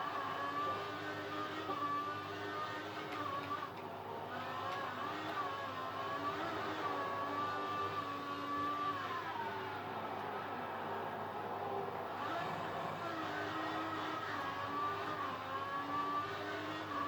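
Racing car engine in a racing video game at Bahrain, accelerating hard with a sustained high-pitched whine whose pitch rises and falls through gear changes, loud and continuous with no talk.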